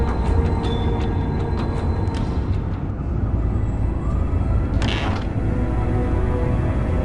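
A door in the game Indigo Prophecy creaks open slowly over a dense mechanical drone, with a brief sharp scrape near the middle and a constant background rumble throughout.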